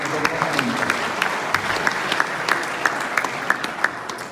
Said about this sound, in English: Give him a round of applause, man.